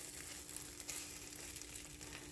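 French toast frying in a pan on a turned-down burner, a quiet steady sizzle with soft crackles throughout.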